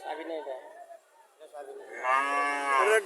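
A Friesian dairy cow on a farm moos loudly and nearby in drawn-out, tonal calls, a shorter low one first and then a long rising bellow.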